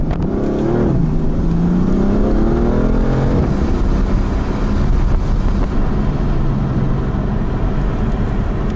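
BMW M4 powering through a series of turns, engine revving up and easing off with a sweeping pitch rise, then a steady loud in-cabin drone at speed.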